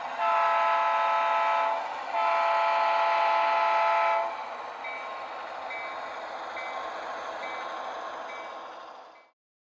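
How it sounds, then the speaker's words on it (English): A DCC-controlled model freight train starting to move, its motor humming steadily with bright whining tones that rise, dip, then settle into a softer continuous drone before cutting off. "let's notch up the throttle and get this freight rolling"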